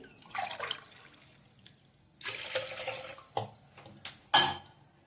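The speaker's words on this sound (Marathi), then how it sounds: "त्यात आता 2 ग्लास पाणी घालूया डाळ शिजण्यासाठी" Water splashes and pours in short bursts into a metal pot over washed black urad dal, with clinks of cookware between pours, close by and otherwise quiet.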